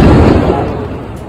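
A loud blast fired at Shinzo Abe during an outdoor campaign speech, one heavy boom that rolls off and decays over about a second amid crowd noise.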